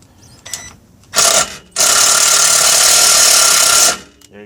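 A power drill drives a self-tapping, self-drilling screw while fog lights are being fitted: two short whirring bursts, then one long, loud, steady high whine of about two seconds that stops abruptly, heard up close.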